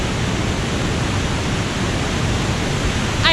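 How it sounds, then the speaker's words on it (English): Sekumpul waterfall in Bali roaring as a constant, dense rush of falling water, loud and steady with no breaks. "I love this waterfall."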